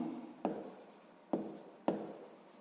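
Pen strokes writing out a sixth-grade math solution: a steady soft scratching across the page, broken by three sharper taps, close and fairly quiet with no talking.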